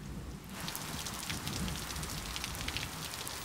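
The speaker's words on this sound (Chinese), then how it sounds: "你一定会喜欢听雨的声音。" Steady, even rain patters down without a break after a quieter first half-second, with no voices over it.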